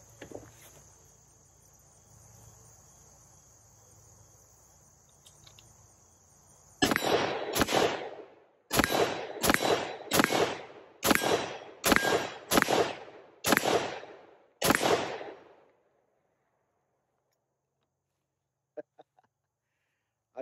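An AR fitted with a BRN180 upper fires Wolf .223 ammunition outdoors: ten loud, sharp shots at a fairly even pace, each with a short echoing tail, then quiet with a few faint clicks.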